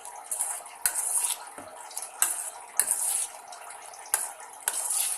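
A utensil stirs two beaten eggs in a pan for an egg dish with tomato chutney. It makes repeated bright clinks and scrapes against the metal in irregular bursts about every half second to second, with no voices.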